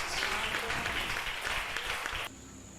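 A church congregation bursts into dense, steady applause during a worship service, filling the space with broad clapping noise for a couple of seconds before it cuts off abruptly to a quieter room.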